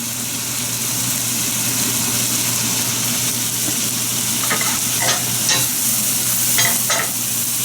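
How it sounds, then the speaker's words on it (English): Minced onions sizzle loudly in the pan used for frying salmon, a steady dense frying hiss throughout with a few brief stirring scrapes near the end, no talking. "at this point, I want to put in the onions, and this is minced onion"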